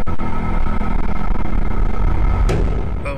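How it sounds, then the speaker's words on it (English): Car in the game Ruins Escape with a glitchy engine sound: a loud, continuous buzzing drone with a stuttering, uneven texture and a sharp crackle near the end, heard alone with no talk. "every time you get in that car, the sound has a fit"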